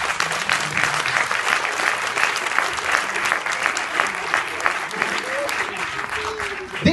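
An audience at a dance school's tenth anniversary show applauds the student dancers, a sustained, even wash of many hands clapping, with some voices faintly underneath.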